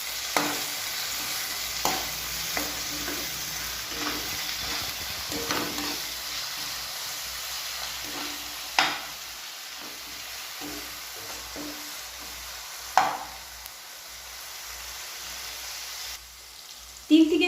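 Spiced ingredients for soya chunk pulao are stir-fried in a pan, a soft sizzle broken by repeated scraping and clanking stirs at irregular intervals, close by with no voices.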